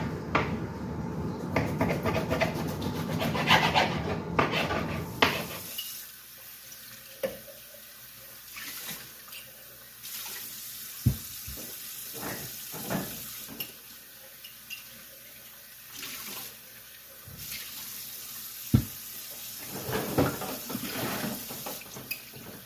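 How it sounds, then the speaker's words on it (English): Warm water runs from a faucet into a sink while glass jars are rinsed for canning venison stew, first a loud steady stream and then quieter splashes with clinks and knocks of glass, close by and without speech. "I rinsed them with warm water, so the jars are still really warm"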